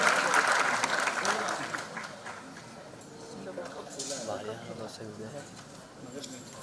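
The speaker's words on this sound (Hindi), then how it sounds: "एक बार और जोरदार ताली" A hall audience claps loudly at the Nayii Udaan music showcase. The applause is dense at first, then fades to scattered claps with a voice and crowd murmur underneath.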